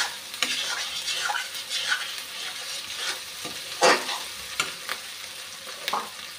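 Chili and turmeric powder spice paste fries in a pan with a steady soft sizzle, punctuated by occasional stirring scrapes and small pops, close and moderately quiet.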